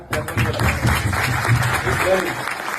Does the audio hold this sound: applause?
yes